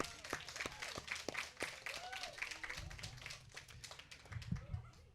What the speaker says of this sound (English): let's give a round of applause for amazing staff